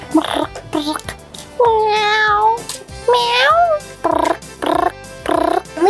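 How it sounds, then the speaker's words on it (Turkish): Two drawn-out, wavering meows stand out between stretches of bright speech, the cat's cries fairly close and loud. "Aa, Defne kedi geldi. Merhaba kedicik."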